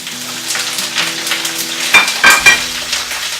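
Spanish sausage frying in olive oil in a paella pan, a loud close sizzle with a few sharp spatters and utensil scrapes toward the end.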